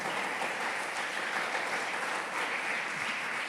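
Steady applause from an audience honouring single mothers and fathers at a faith-themed family gathering, a dense even patter of many hands sustained at moderate distance with no voices over it.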